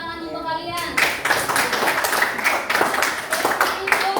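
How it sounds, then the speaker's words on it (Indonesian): A class of children claps together in rhythmic, fairly loud bursts that start just after a brief voice and carry on steadily. "Tepuk tangan untuk kalian."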